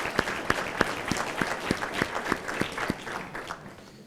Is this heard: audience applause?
yes